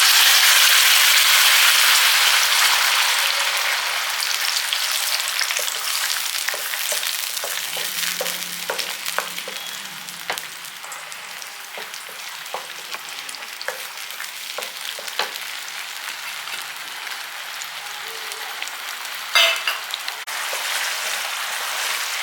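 Blended tomato, dried red chili and garlic paste hitting hot oil for pasta sauce, a loud rushing sizzle at first that settles into steady crackling spatter with scattered pops, close and alone.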